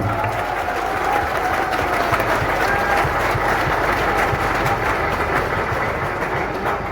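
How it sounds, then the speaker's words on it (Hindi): Audience applause fills a seminar crowd at Savitri Marriage Hall in Ayodhya, a dense, steady roar of many hands clapping continuously and evenly loud throughout, with no voices on top. "तो क्या एक बार ये कुछ तालियां आपके लिए बननी चाहिए, नहीं बननी चाहिए?"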